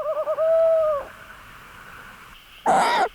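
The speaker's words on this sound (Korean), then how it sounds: "밤의 숲을 수놓는 애틋한 소리의 주인공은 올빼미 수컷이다." A loud, drawn-out call of a male owl at night in a forest, with a wavering start, then a short pause and a second, harsher burst of noisy calling near the end.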